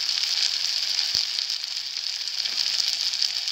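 Tamarind, ginger and turmeric sauté in a pan with a steady, close sizzle and faint crackle, broken by one soft tap of a utensil, with no talking.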